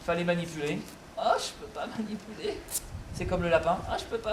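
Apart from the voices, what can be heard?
No distinct noise like a dog, phone or traffic.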